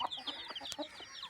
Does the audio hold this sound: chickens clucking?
yes